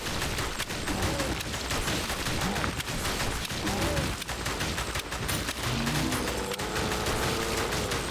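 Gunfire in The House of the Dead: Remake: rapid, steady bursts of shots crackle throughout against a dense, loud backdrop of game noise and creature sounds.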